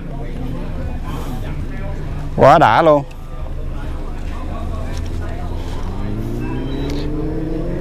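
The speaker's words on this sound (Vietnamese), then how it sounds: "Các bạn nghe tiếng xe mô tô đang chạy đằng xa xa phóng khích không?" Motorcycles race on a distant track at Đại Nam, their engines whining and rising in pitch far off beneath someone talking close by.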